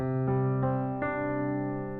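Piano notes enter one after another in a rising broken major ninth chord, each new tone layering over the ringing ones, played alone and close.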